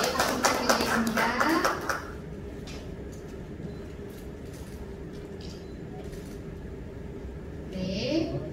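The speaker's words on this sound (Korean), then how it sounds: "박수 부탁드리겠습니다." Audience clapping at a youth committee appointment ceremony in Gwangju, a burst of applause for about two seconds that then stops, leaving quiet room tone, with a brief stir near the end.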